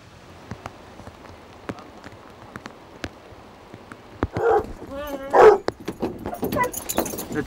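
Hunting dogs at a wild boar hunt bark a few times in the middle distance amid light patter like rain and scattered knocks, with someone talking in the background.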